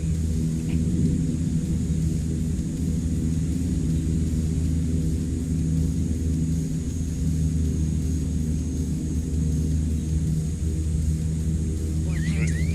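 A CL-415 water bomber in a flight simulator drones with a steady, heavy engine rumble and constant hum, loud and unbroken throughout without any clear rise in pitch.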